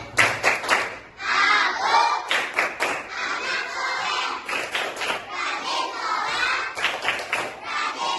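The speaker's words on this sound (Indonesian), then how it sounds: "Tepuk anak soleh." Children at school perform the 'Tepuk anak soleh' clapping chant, loud rhythmic group claps and chanted voices in bursts, with shouting near the end.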